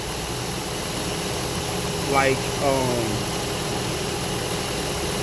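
A car engine idles with an intermittent misfire: a steady, even idle hum broken by a couple of brief, uneven stumbles near the middle, close and moderately loud.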